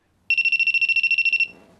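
A telephone rings in a Park Chan-wook film, one rapid electronic trilling burst lasting just over a second, loud and close, then cutting off into faint room noise.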